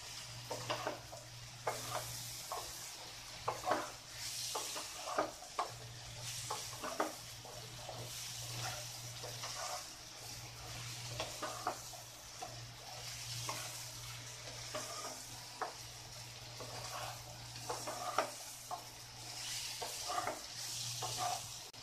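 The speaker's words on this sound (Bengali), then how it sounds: "দিয়ে ভালোভাবে নেড়ে চেড়ে কষতে হবে।" Jackfruit pieces and potatoes, already fried, are stirred and sautéed in a hot pan, giving a steady low sizzle broken by frequent scraping strokes of a spatula, close and continuous with no talking.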